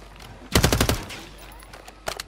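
A short, loud automatic burst of about five rapid gunshots rings out in a battle royale video game, followed after a pause by a fainter, briefer burst of a few shots.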